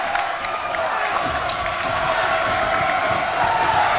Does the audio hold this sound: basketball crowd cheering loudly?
yes